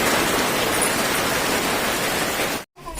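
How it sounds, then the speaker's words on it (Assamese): Heavy hailstorm rain at night, a dense, steady roar of hail and rain hitting surfaces that runs loud and unbroken, then cuts out briefly near the end before resuming. "আজি শিল বৰষুণ দিছে ৰাতি আজি 7টা বজাত পুৰা শিলৰ বৰষুণ"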